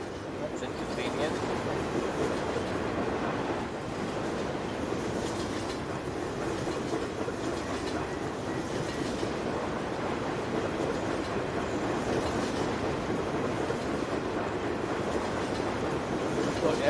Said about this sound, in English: now we gotta wait for this 800-mile long train